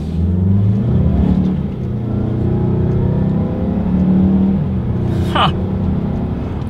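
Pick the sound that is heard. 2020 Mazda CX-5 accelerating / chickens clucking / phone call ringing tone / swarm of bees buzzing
2020 Mazda CX-5 accelerating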